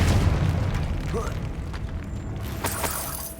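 A Confringo blasting spell detonates in Hogwarts Legacy, a heavy boom that opens the clip and decays into scattered crackles and sharp pops.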